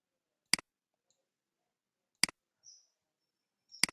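Three sharp, isolated computer mouse clicks spaced over a few seconds, close and crisp against near silence, each a quick double tick.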